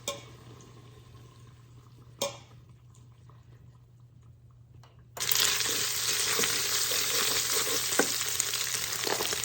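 Bacon frying in an Instant Pot, quiet at first with a single clunk, then a loud, steady sizzle bursts in and continues with crackles.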